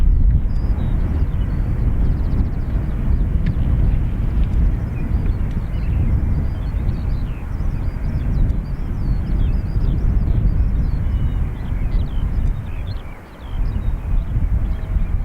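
A Ryanair jet airliner departs Dublin Airport's north runway for Rome Fiumicino, its loud, steady low roar filling the whole stretch with only a brief dip near the end, and no voices.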